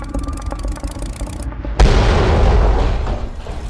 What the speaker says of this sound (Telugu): హెలికాప్టర్ క్రాష్ అయింది.